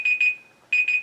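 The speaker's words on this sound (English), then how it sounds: "That's my alarm telling me that." A loud electronic alarm beeps in quick bursts of high steady tone, two pulses, a short pause, then three more, close and clear with no talking.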